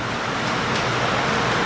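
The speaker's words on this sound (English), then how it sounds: "It's pouring." Heavy rain pours outside a cafe, a dense, steady, loud hiss that fills the whole moment with no voices over it.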